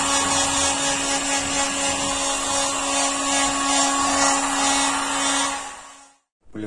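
A power polisher works steadily over a dent repair on the hood of a Renault Sandero Stepway, giving a loud, constant whirring drone with a sustained tone. The motor runs without a break, then winds down and stops near the end.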